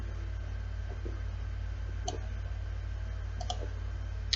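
Sparse computer mouse clicks while working in PE-Design 11 embroidery software, a few soft single and double clicks spread over a steady low hum, close and quiet.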